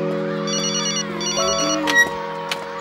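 A telephone rings with a steady electronic warble, sounding alone and fairly loud.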